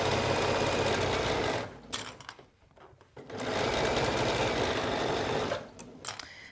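Sewing machine running a 3mm stitch along a hoodie side seam, a loud steady close-up whir that stops briefly midway, then resumes for another long continuous run before slowing.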